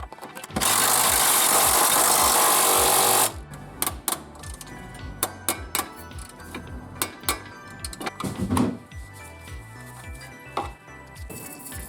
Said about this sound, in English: it would also help if I put my impact gun on full blast here